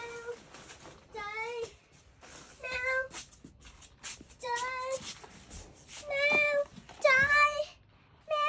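A pet cat meows repeatedly in short, clear calls spread across the stretch, fairly close, with a person's voice speaking softly in between.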